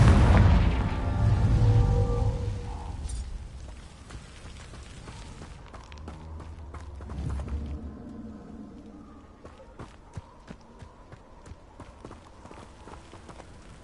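In Hogwarts Legacy, a Confringo spell explosion booms loud and deep at the outset and rolls away over several seconds, then a second swell hits mid-way before scattered light clicks and thuds trail off.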